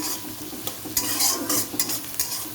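Onion fries in oil with whole spices such as bay leaf in a wok, a loud close sizzle broken by repeated spatula stirs and scrapes.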